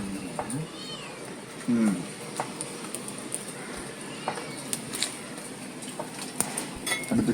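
A domestic cat meows a few times in a kitchen where dried fish is being roasted, short mewing calls rising over background speech and light clatter of dishes.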